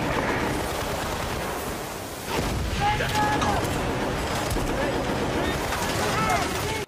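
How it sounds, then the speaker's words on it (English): Sustained mounted machine gun fire and explosions roar through a Battlefield: Bad Company battle, dense and loud for several seconds with a brief dip before the barrage resumes. "There's a mounted machine gun there that comes in handy."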